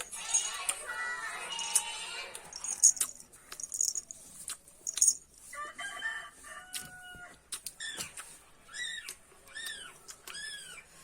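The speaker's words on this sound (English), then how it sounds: "for hen." Hen clucking mixed with crowing-like calls and rising chirps, arriving in short irregular bursts at a moderate level with no talk.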